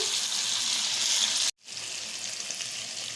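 Mutton and okra fry hard in a pan, a loud, dense sizzle that cuts out for a split second and then resumes just as strongly.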